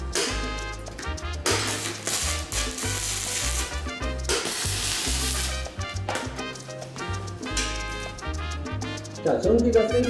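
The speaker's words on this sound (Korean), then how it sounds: "여기서 용접봉을 예열한 다음에 빨리 옮겨서 작업을 합니다" Arc welding crackles and sizzles while a welding electrode is preheated before flange welding, an irregular buzzing hiss with a steady electrical hum beneath, close and fairly loud throughout.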